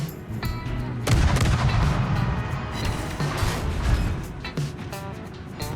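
Warship guns firing in the video game World of Warships: heavy booming shots and rumbling blasts, loud and close, with sharp reports rising over a constant low battle din.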